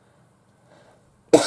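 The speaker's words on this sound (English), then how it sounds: "Wish this cough would go now." A single sharp cough bursts out near the end after near silence, close and loud.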